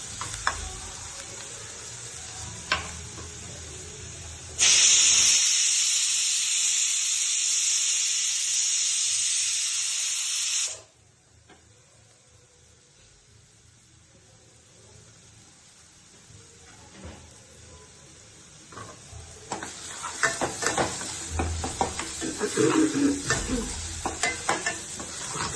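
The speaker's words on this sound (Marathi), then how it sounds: "कांदा आपला ऑलमोस्ट लाल झालेला आहे." Onion frying for potato bhaji: a bright, loud hissing sizzle bursts in for several seconds, then drops away to quiet, followed by rustling stirring and scraping in the pan.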